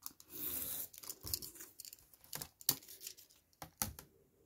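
Scissors snipping through paper for a craft page: a series of close, crisp cuts and rustles, irregular and fairly quiet, with brief pauses between strokes.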